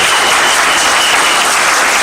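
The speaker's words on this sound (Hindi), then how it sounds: "उनके लिए जोरदार ताली होनी चाहिए, जोरदार ताली सभी के लिए।" A large audience at a mega training event in Odisha breaks into loud, sustained applause, a dense, even wash of clapping that fills the whole moment without any voices on top.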